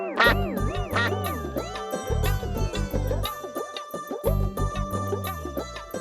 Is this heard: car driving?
no